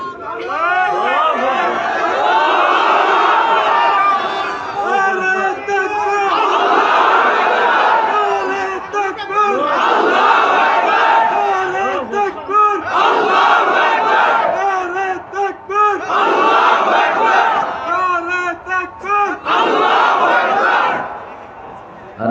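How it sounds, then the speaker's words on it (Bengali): A large crowd at an Islamic sermon gathering shouts a takbir chant in loud, repeated waves of massed voices, each surge rising and falling in a steady call-and-response rhythm close by. "একটু জোরে তাকবীর দেন।"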